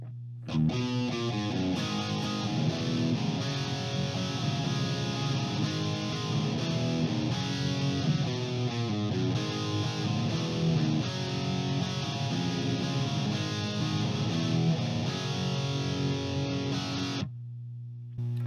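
An electric guitar plays a sustained, heavily distorted riff with gritty, saturated chords ringing out, then cuts off abruptly near the end.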